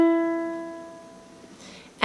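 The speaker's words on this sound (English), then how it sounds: "Now what's nice is the E is open on the ukulele, so it's going to be the 2nd string," An open second string on a ukulele plucked on E rings out as a single clear note, decaying smoothly over about two seconds, close and alone, before a brief scrape at the end.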